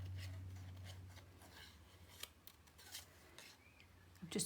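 Quiet, close snips and crisp cutting strokes of scissors through card, irregular and faint, with a low hum in the background.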